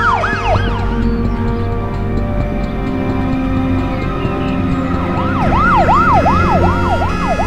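A wailing ambulance siren rises and falls in repeated sweeps, fading briefly then returning louder over a steady hum of traffic.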